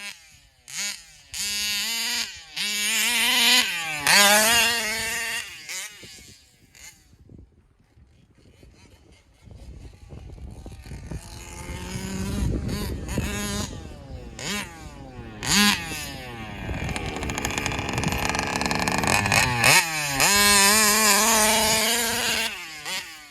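A Taylor RC 40GT remote-control car's small motor screams in repeated loud, high revving bursts, with rising and falling whines and brief quieter gaps as it drives.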